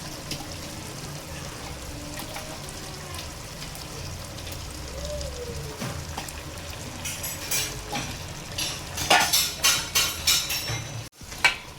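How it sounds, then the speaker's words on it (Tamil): Chicken pieces with skin being stirred into masala in a pot for chicken biryani, a low wet simmer and sizzle with intermittent scraping and clanks that grow louder and more frequent toward the end. "கறியை வந்து அந்த மசாலாவோட நல்லா கலந்து விட்டுறலாம்."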